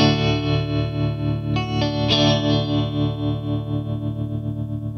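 Electric guitar run through a CaLine Lucky 7 seven-mode modulation pedal, sustained chords with a wavering, pulsing modulated tone and a couple of fresh strums midway, played alone at steady volume.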